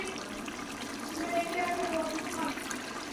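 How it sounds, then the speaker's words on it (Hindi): Water poured into a pan of sautéed vegetables and peas for a vegetable pilau, a steady close rushing pour with a faint trickle, running continuously at a moderate level with no talk over it. "तो इधर अब हम पानी डालेंगे"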